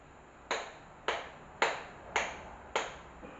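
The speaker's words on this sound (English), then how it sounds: "A 5 claps." A class of students claps five times in unison, each clap a sharp burst followed by a short decaying room echo, evenly spaced about half a second apart in a classroom.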